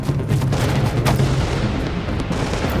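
Steady gunfire fills a firefight in The Division video game, with rapid shots and booms rolling continuously and loudly without a break.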